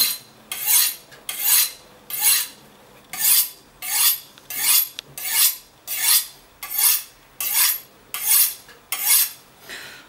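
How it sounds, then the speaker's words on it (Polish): A kitchen knife drawn by hand through a Taidea T0843C sharpener, giving eleven evenly spaced, bright rasping strokes in a steady rhythm, close and clear with no talking. "Jeżeli ktoś ma już więcej wprawy, możemy ostrzyć spokojnie w ręku."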